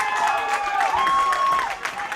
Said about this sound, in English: And a big roar here from the Greenwich faithful